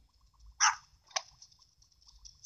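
Young puppy giving two short, sharp yips close by, separated by a brief pause, against an otherwise quiet indoor background.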